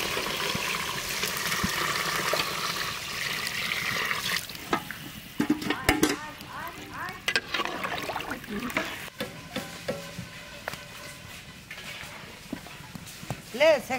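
Egg curry masala sizzles in a pan, and partway through water is poured in, turning the steady fry into bubbling and sputtering with clanks of utensils. People talk over the cooking.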